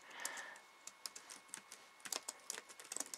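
Computer keyboard typing a business name, a quick run of light, irregular clicks, close and fairly quiet, with no voices.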